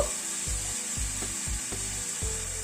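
Tomato paste fries with spices in a pan for a light fish curry, giving a constant hissing sizzle with a regular pulse of soft thuds about twice a second as it is worked, close and steady, no voices.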